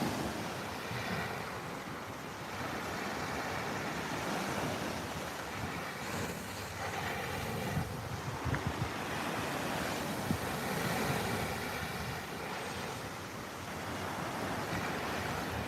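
Ocean waves wash onto a shore at sunrise in a steady, broad roar with gentle swells and some wind noise, and no voices are heard.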